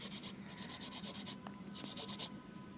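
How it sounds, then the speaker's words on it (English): An electric nail drill fitted with a barrel-shaped bit grinds off gel nail coating in a rapid series of short, close buzzing passes, a dry rhythmic rasp that pauses briefly midway before resuming. "I'm working with barrel shaped drill bit, and after that I will be using cone drill bit, because the barrel drill bit removes"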